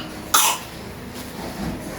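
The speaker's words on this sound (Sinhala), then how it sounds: "හොඳටම කැස්ස මගේ සූටි කෙල්ලට අපතෝ කැස්සක් හැදිලා" A young girl with a bad cough gives one sharp, close cough, followed by a softer throaty sound and quiet room noise.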